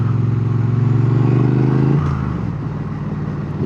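Triumph Speed Twin 900 motorcycle engine droning steadily while riding through English villages, loud and close, the note dropping and settling into a lower rumble partway through.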